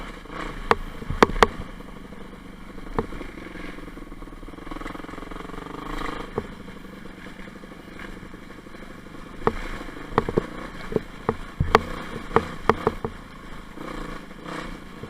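An ATV quad engine drones continuously while riding a leaf-covered forest trail, its pitch rising and falling with the throttle, with scattered knocks and clatters from the rough ground.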